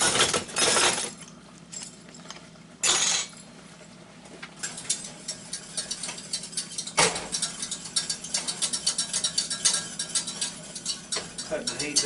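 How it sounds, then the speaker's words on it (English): A small whisk works cornstarch into a port wine sauce for roast pork, making quick metallic clicking and rattling against the pan, with a few louder clanks early and a continuous close scraping rhythm after. "I'm going to add this cornstarch in there. And get me a little whisk. Start whisking it in there."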